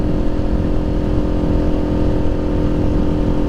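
A Kawasaki Ninja 400 motorcycle being ridden, its engine droning steadily and loud up close, with a constant low rumble and wind noise filling the short stretch and no voices.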